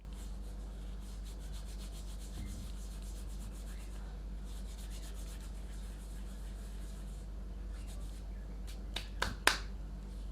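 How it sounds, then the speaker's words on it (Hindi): Dried fenugreek leaves (kasuri methi) are crushed between the palms for a chicken tikka marinade, making faint, quick rhythmic rustling in two short runs, followed by a few light taps. "एक टेबल स्पून कसूरी मेथी को हथेलियों के बीच रगड़कर ऐड करते हैं।"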